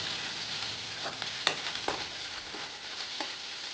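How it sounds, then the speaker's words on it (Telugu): Black chickpea masala frying in a pan, a steady soft sizzle running throughout with a few sharp clicks and scrapes from stirring, no voices. "అలా కొంచెం పచ్చివాసన పోయేంత వరకు ఫ్రై చేసుకోవాలి."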